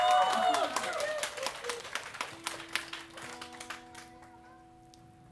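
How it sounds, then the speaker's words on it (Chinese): Scattered applause and clapping from a small audience at a live concert, loud at first and thinning out over a few seconds, leaving faint tones and quiet room sound at the end. "麻烦请掌声加尖叫"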